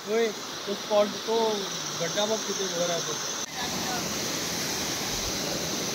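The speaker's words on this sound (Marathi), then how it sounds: "पाण्याचा आवाज येतच असेल पण वॉटरफॉल तुम्हाला दाखवतो" Steady rushing roar of a monsoon waterfall at Tikona Fort, with voices talking over it for the first half before the water carries on alone.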